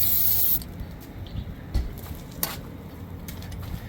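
A short burst of lubricant spray hisses at the start during a bushing change, followed by quieter rubbing and faint clicks nearby.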